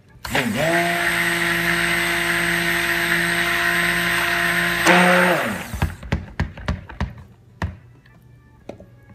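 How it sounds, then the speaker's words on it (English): An electric blender runs loud and steady, mixing soap batter toward a thicker trace, then switches off and winds down, followed by several sharp taps and knocks. "I'll blend this to a thicker trace and then we'll get it in the mold."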